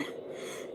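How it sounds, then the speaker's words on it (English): One short, muffled cough, close and brief. "I'm laughing and then coughing."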